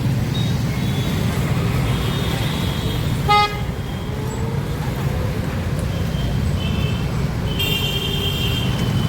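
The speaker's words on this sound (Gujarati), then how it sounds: "તો જોવો તમે રોડ ઉપર અત્યારે ટ્રાફિક" Sunday afternoon road traffic with a steady line of four-wheelers gives a constant low rumble of engines, with a short horn toot and occasional higher honks cutting through.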